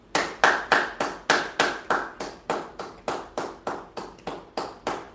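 A congregation at a worship service claps in a steady rhythm, about sixteen even, fairly loud claps with no talking over them.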